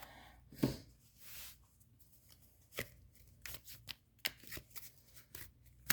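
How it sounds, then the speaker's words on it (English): Quick papery riffles and soft snaps of tarot cards being shuffled, in short irregular bursts with quiet gaps between, close by and fairly soft. "I'm going to shuffle your cards"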